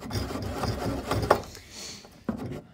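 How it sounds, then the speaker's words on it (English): A hand saw cuts wood for a stopped housing joint, with short rhythmic rasping strokes and a couple of sharper knocks, close and moderately loud. "You're just using the front edge of your saw to cut this."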